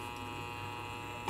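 A reciprocating air compressor driven by a refrigerator motor, running with a steady electric hum and faint buzz, low and even throughout this short stretch, with no speech.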